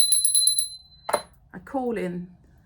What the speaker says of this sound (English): this is just a little bronze little bell